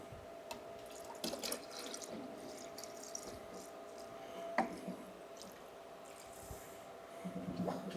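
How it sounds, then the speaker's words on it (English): Coolant drips from a rear-mounted radiator cooling system on an S10 pickup, faint wet drips and trickling at irregular intervals over a low steady hum, with a sharper drop near the middle. "It's dripping."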